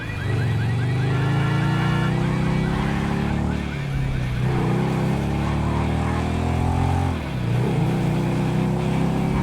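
A motorbike engine revs in the video game GTA V, with repeated rising and falling pitch sweeps as the throttle opens and eases. It is loud and close, with steady engine drone throughout.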